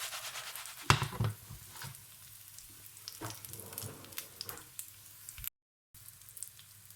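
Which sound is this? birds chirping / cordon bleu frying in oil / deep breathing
cordon bleu frying in oil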